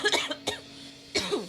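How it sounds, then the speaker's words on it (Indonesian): A person coughs several times in short, sharp bursts, close and moderately loud, with brief pauses between the coughs. "Tuh kan batuk kan aku itu."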